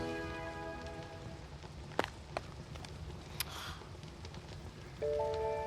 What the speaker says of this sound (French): La pluie ne me dérange pas.